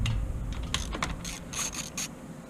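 Rapid ratchet clicks from a hand wrench working on the carburetor hardware of a Predator 6500 generator, a close, steady mechanical ticking in short bursts.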